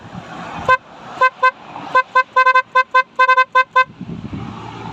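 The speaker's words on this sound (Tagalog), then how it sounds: "Interruptor relay, pero ang tunog niya, papapdal, pwede pala yun, pakinggan natin." A car horn wired through an interrupter relay beeps in short, rapid bursts, a stuttering pattern of quick honks over faint background noise, loud and close.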